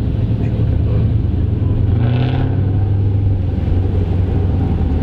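Car with a 392 engine revving during a cruise week street gathering in Ocean City, a loud continuous deep engine rumble rising in pitch briefly, close by and dominating the scene.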